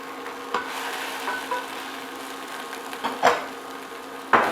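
Jackfruit pieces sizzle in a hot pan as they are stirred, giving a steady frying hiss broken by a few sharp spatula scrapes and knocks against the pan.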